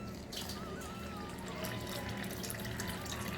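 Water splashes and trickles as it is poured and stirred in a container to dissolve an ingredient for homemade rice vadam, a continuous soft liquid sound close by.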